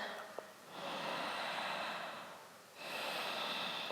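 Slow, deep yoga breaths drawn through the nose and mouth, two long airy breathing sounds close and quiet with a brief gap between them and no talking.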